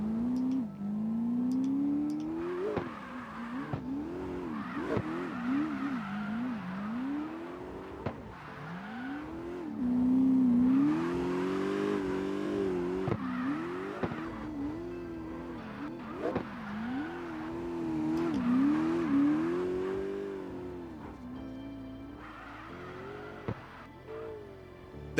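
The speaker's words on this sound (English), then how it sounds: "Look at that car unloading the suspension up the hill and carrying so much speed through the finish." Race car in a mountain touge racing video game charging uphill, its engine revving hard and dropping through repeated gear changes, with brief tire squeals, loud and continuous throughout with no talking.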